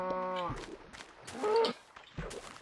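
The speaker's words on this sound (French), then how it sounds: "La vache vient par là." A Minecraft cow moos in the 1.8 update, with a low lowing call at the start and another in the middle, separated by soft game noise.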